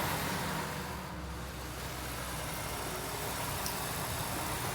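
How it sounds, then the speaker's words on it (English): Steady supercharger whine and idle from the original, unmodified supercharged V8 of a 2002 Ford Lightning pickup, heard under the open hood as a faint, even hum with a constant engine drone and no voices. "Hear that supercharger whine."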